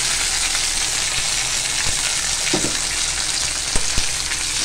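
Onions, tomatoes and salt frying in a pot, a steady loud sizzle with a few brief stirring clicks and knocks near the end.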